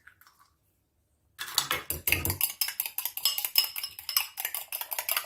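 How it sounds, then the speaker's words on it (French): Eggs beaten in a bowl for soup: a moment of near silence, then a fast, steady run of whisking clicks against the bowl, close and fairly loud, with no talking. "Pour finir, on va venir battre les œufs et rajouter dans la soupe."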